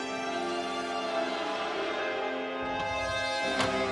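A 1970s house doorbell rings out with bright, sustained metallic tones that linger and overlap, fairly close and steady, with a fresh strike near the end and no talking.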